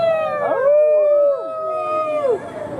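Riders on the Snake River Expedition boat ride at Cedar Point give a wolf call, several overlapping voices imitating a wolf in long rising and falling howls, loud and close, with a yip in the middle.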